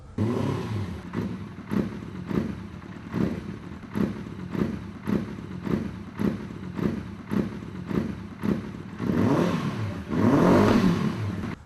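A small Honda engine mounted on the carrying frame of an invented sled vehicle, with a Shimano hydraulic rear brake, putters and revs in short repeated bursts with a regular rhythm, close by, swelling louder near the end.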